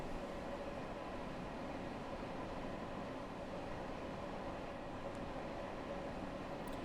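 A train in a video game runs steadily, a continuous low rumble and rolling hum that stays even and fairly loud throughout, with no talk over it.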